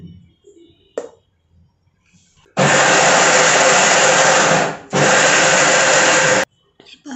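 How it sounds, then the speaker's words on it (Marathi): A mixer grinder grinding coconut chutney with Kashmiri red chilli runs in two loud, steady whirring bursts, the first lasting about two seconds and the second just under two, separated by a brief pause, after a short stretch of quiet kitchen clatter. "हे आपण मिक्सरला बारीक करून घेऊयात"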